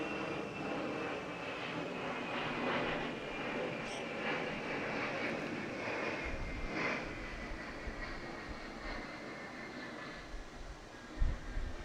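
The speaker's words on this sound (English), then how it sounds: "Let this aircraft pass." A fixed-wing aircraft passing overhead at an outdoor school opening ceremony, a steady broad engine roar that swells and fades gently, fairly distant, with no talk over it.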